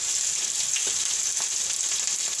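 Green chillies dropped into hot oil with garlic for karela chutney sizzle and crackle steadily, a dense close frying hiss with a few sharper pops and no talking.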